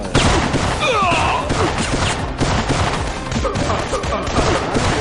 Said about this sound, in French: Il tire encore dessus là.